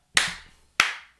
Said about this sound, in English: This is the clap test.